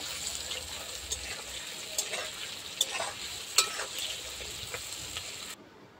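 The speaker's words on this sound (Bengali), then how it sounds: "তো একই কড়াতে আমি এখন তেল দিয়ে দেবো সরিষার" Shrimp coated in salt and turmeric fry in mustard oil in a wok, making a faint, steady sizzle broken by light clicks and scrapes of stirring.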